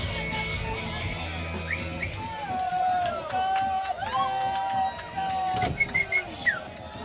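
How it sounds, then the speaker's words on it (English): Stadium crowd of South Slope Blues supporters at an Asheville City Soccer Club match against the Atlanta Silverbacks, distant chanting and whistles carrying across the ground beneath a nearby commentator's voice. "You can hear the South Slope Blues on the other side of the stadium from all the way over here."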